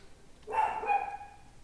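A pet dog barks somewhere in the room at home, one clear, fairly loud bark with a ringing tail that stands out from a quiet background, with no talk over it.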